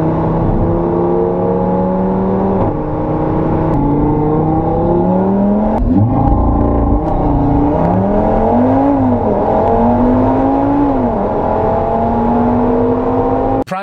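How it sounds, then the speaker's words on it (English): An Audi RS3 with quattro all-wheel drive accelerates hard under full throttle, its engine note rising steadily in pitch through the gears with brief dips at shifts, loud and close throughout with no talking. "You just floor the gas, let the quattro do the work, and the car just moves."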